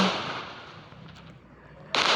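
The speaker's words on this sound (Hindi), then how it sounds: "फिर से दोबारा हमने तोप निकाल दी है, हेलीकॉप्टर को मार रहे हैं" A loud sharp blast from a video game cannon fired at a helicopter bursts in near the end after a stretch of fading rumble and crackle.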